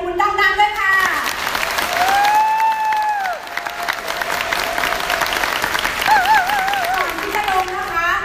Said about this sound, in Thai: อยากจะให้ทุกคนปรบมือดังๆ